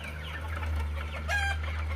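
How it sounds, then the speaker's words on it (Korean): Chickens clucking in a coop at a rural country house, several hens murmuring and clucking softly nearby over a low steady hum, with one brief louder call near the middle. "이렇게 닭장이 되어 있습니다. 여기서 청개를 키울 수 있는데"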